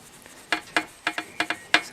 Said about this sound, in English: all we're going to do is use the sanding block, or we call it sanding mushroom sometimes, just to rub those off.